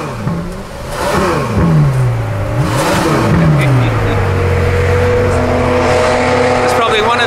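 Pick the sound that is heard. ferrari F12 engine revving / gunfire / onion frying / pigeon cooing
ferrari F12 engine revving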